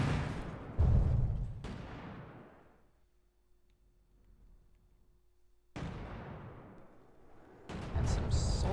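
Missiles slam into robots in a robot battle video game, a series of heavy booming impacts with decaying rumble, a quiet gap, then more loud blasts near the end.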